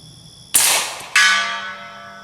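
A sharp .375 SOCOM rifle shot followed about half a second later by a ringing metallic clang of a bullet striking a steel target, the ring fading out.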